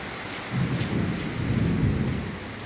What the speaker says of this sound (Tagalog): Sobrang lakas ng ulan ngayon dito.